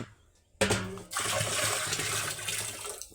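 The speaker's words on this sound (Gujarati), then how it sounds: "આની અંદર કાંઈ પહેલાં પાણી ભરી નાખીએ આપણે" Water gushes into an empty pesticide spray tank before spraying a groundnut field: a short clunk, then a loud, steady rushing fill that continues to the end.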